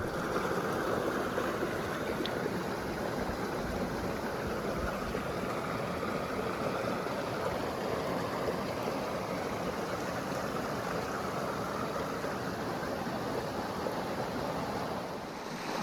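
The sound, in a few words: desert creek stream flowing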